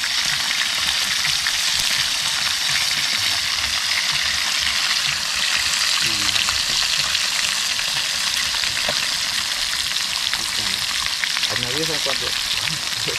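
Freshly caught tilapia fish frying in hot oil, a steady dense sizzle and crackle running throughout, with faint stirring and brief murmured voices underneath.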